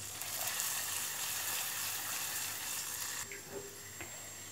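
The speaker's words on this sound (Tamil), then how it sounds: "இப்போ வந்து நம்ம திராட்சை சேர்த்துக்குவோம்." Raisins frying in ghee in a pan for sago and coconut milk payasam, a steady close sizzle and crackle that eases near the end, broken by a few light clinks of a spoon against the pan.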